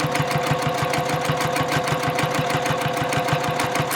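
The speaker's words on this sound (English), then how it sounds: "we're going to backstitch over that bottom part a few times and sew up the line," A sewing machine backstitches a messenger bag, its needle hammering in a fast, even rhythm close up, loud and continuous with no pauses.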